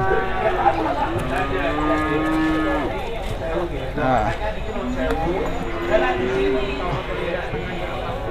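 Cattle moo repeatedly at a livestock market in Rogojampi, Banyuwangi, East Java, with several long low calls over a busy background of people talking nearby.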